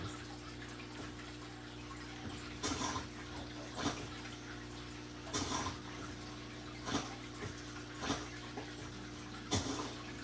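Flowing water in Minecraft on Xbox One, a steady soft wash of running water broken by brief clicking bursts every second or so, with no voices.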